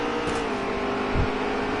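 A NASCAR race car in NASCAR Heat 3 circles the track during the Folds of Honor QuikTrip 500, its engine holding a steady, loud drone that swells slightly as it slides low on the racetrack.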